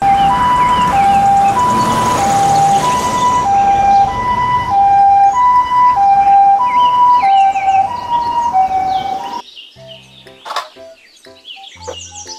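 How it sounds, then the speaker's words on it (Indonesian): A toy ambulance siren wails in a steady two-tone pattern, loud and close, over rumbling traffic noise, then cuts off near the end leaving scattered clatter. "mobil ambulans"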